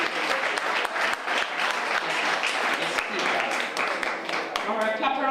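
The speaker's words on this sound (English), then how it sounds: "All right, clap her until she reaches." An audience at a school prize giving and awards ceremony applauds as the student council president walks up, a dense, steady wash of many hands clapping throughout, loud and close, with a voice briefly audible near the end.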